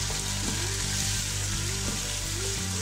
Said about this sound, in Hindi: इसमें मैं चिकन डाल देती हूँ। ये पहले फ्राई हो जाएगा।